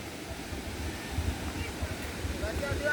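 A river flowing downstream near Kanthanpara waterfall in Wayanad, a steady rushing wash of water with low rumbling gusts, moderately loud and continuous.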